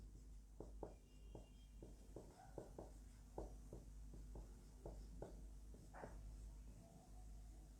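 Chalk or a marker writes on a classroom board in a string of quick, distinct taps and strokes over a low steady room hum, with no voices.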